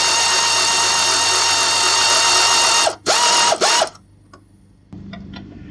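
A quarter-inch ratchet tightens bolts on a 2005–2009 Ford Mustang, with a few sharp clicking strokes and a brief whir cutting through loud steady background noise before it drops to quiet.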